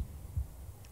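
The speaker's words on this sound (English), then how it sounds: "He's got the heartbeats." A golf video game plays a heartbeat sound effect, a soft low thump or two pulsing under a steady hum, with no voices over it.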